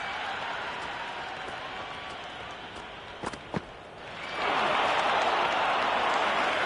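Crowd cheering in the Cricket 26 video game during an England versus South Africa match: a steady stadium roar with a couple of sharp knocks, then swelling noticeably louder for the rest of the clip.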